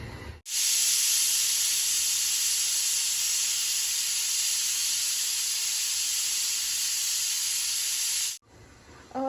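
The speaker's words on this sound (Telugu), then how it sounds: "ఇలా 4 whistles వచ్చేంత వరకు ఉంచుకోండి" A pressure cooker making egg biryani lets out one long, loud, steady steam whistle and hiss that lasts about eight seconds. Silence comes before it and after it, and no one speaks.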